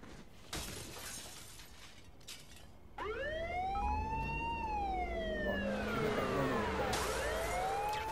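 After a sharp clatter, a loud wailing ambulance siren in the video game Saints Row The Third rises and falls in long sweeps, sounding close and steady, with no talking.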